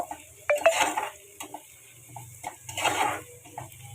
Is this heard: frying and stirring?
yes